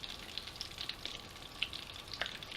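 A chili relleno fries in hot grease in a pan, a continuous soft sizzle and crackle with scattered small pops, close by and fairly quiet, with no talking.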